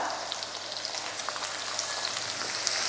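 Finely chopped onion hisses in hot oil with garlic and dried red chillies, a steady close sizzle running evenly throughout without any voices.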